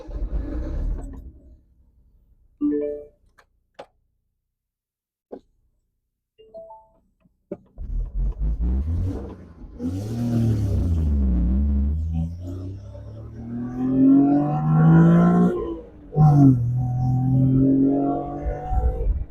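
A Honda Beat drives off. After quiet scattered clicks, its engine rises in a climbing drone, eases briefly at a gear change, then pulls up again.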